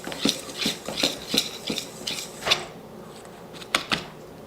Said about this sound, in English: you're gonna take a whisk and whisk together the dry ingredients